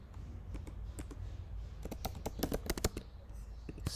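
Quiet, irregular keystrokes on a computer keyboard, close and crisp, coming in quick bursts with short pauses between them against a faint room hush.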